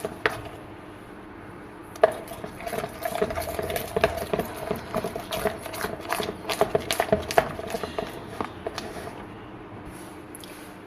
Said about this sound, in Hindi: साथ साथ चम्मच चलाते रहें।